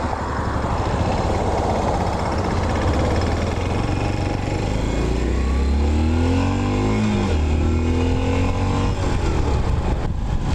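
A Yamaha SR400 single-cylinder motorcycle is ridden, its engine loud and close, revving up and dropping through gear changes while wind noise runs throughout.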